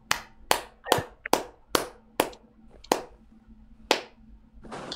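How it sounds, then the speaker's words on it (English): Kids clapping at a peewee boot camp: a string of about nine sharp, separate claps in an irregular rhythm, close and fairly quiet, with a little faint talk at the end. "Everybody clap it up."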